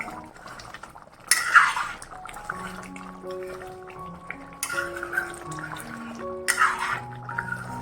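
A spoon scrapes and clinks against a pan of ridge gourd gravy in three short bursts, separated by quieter stretches with faint tonal background hum and no talk.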